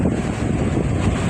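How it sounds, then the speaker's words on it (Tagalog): Strong wind buffeting the microphone beside a rough sea with big waves, a dense continuous roar and rumble throughout, loud and close, no voices. "Malakas po ang hangin sa amin."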